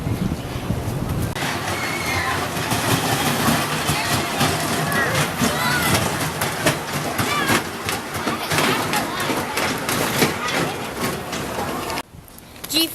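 A customized junior roller coaster ride at Quassy amusement park, with a sustained rumbling, clattering run of cars on track, voices mixed in, and a sudden drop-off near the end.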